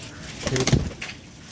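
A pigeon gives a short, soft cooing call close by, over a quiet background.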